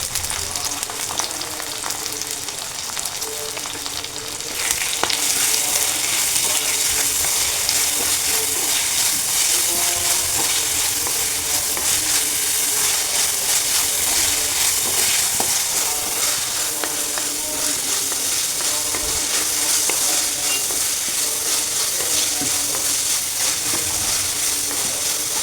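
Onions and crushed spices fry in a pan for a fish dish, a loud, close, continuous sizzle that swells after a few seconds as more goes into the hot oil, with occasional stirring and no talk.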